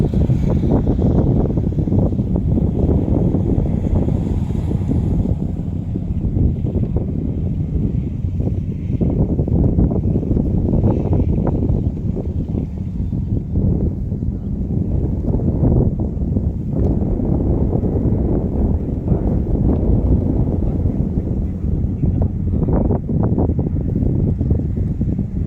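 Strong wind blows across a rice field during harvest season in Vietnam's western region. It comes through as a loud, continuous roar buffeting the microphone for the whole stretch. No one speaks.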